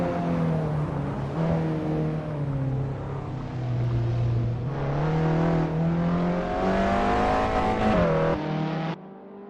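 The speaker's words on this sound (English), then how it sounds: "The roaring engines are echoing Richard Rossier's battle cry." Renault 5 Turbo race car engines in Assetto Corsa club racing roar loudly and continuously, pitch rising and falling through gear changes as the cars accelerate, alone without talk, before cutting off abruptly at the end.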